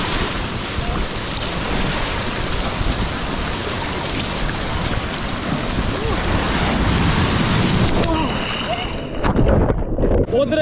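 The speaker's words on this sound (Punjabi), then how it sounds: "ਉਧਰ ਅੱਗੇ ਵੇਵਸ ਕਾਫੀ ਉੱਚੀਆਂ ਨੇ ਸੋ ਉਧਰ ਚੱਲਦੇ ਆ" Ocean surf rolling in at a Sydney beach. A loud, continuous rush of breaking waves with wind buffeting the microphone, and a fresh surge of water near the end.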